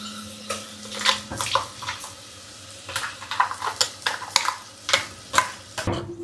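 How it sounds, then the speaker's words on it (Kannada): Raw ground masala is stirred into chicken frying in a pan for a village-style chicken sambar, with repeated wet scraping strokes over a steady sizzle, close and moderately loud, no voices. "ಹಸಿ ಮಸಾಲೆನ ಹಾಕ್ಬಿಟ್ಟು ನೀಟಾಗಿ ಎಲ್ಲನೂ ಅದು ಮಿಕ್ಸ್ ಮಾಡೋಣ."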